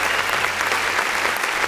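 Steady, dense applause sounds throughout, a loud sustained clapping effect with no gaps and no voices over it.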